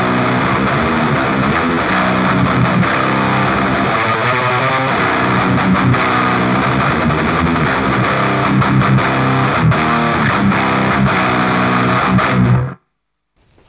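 Heavily distorted death metal electric guitar run through two distortion pedal channels blended equally, playing dense chugging riffs loudly for about twelve seconds before cutting abruptly to silence.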